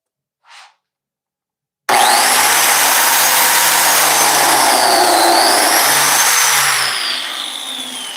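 After near silence and one faint blip, a biscuit joiner starts abruptly, cutting a slot in wood with a loud, close motor whine and a rough cutting roar that runs steadily for about five seconds and then begins to fade.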